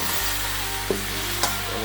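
Jumbo shrimp fry in butter masala in a pan, a steady loud sizzle with a couple of brief clinks or stirs and no talking.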